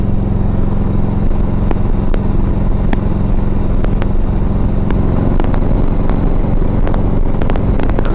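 A 1991 Harley-Davidson FLHTP motorcycle cruising at highway speed, its steady engine drone loud and continuous with heavy wind rush over the microphone throughout, no talking.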